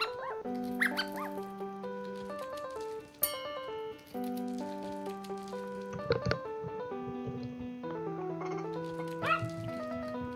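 Dog whimpers and yips in the video game The Cat Games, heard over bright, looping game music with chiming notes throughout.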